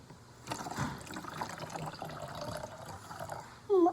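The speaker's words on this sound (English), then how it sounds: "One more water. And then you're gonna pour that into the funnel." Water pours into a funnel at close range for a home kids' science experiment, giving a soft continuous trickle and splash for a few seconds before a brief louder sound at the end.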